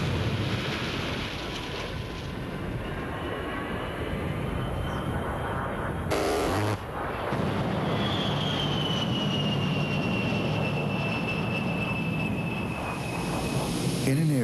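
An A-10 Warthog jet aircraft produces a loud, continuous engine roar with a rising whine threading through it, steady and close for the whole stretch, with a brief dropout midway.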